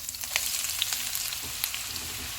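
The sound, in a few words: onions frying in hot oil with whole spices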